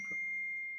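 A phone notification gives a single short, clear electronic ding that rings out as a steady tone in a quiet room.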